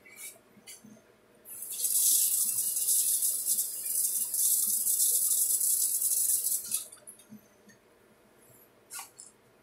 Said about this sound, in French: Et là, je mets de l'eau.